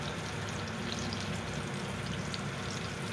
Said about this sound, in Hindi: अब हम मिर्चें तेल में फ्राई कर रहे हैं